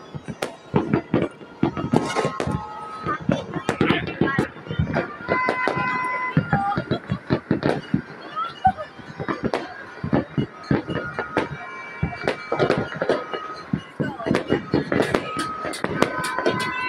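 Fireworks bursting at night in Baguio, a steady run of sharp pops and crackles with bright whistling tones over seventeen seconds, while people nearby talk and cheer throughout.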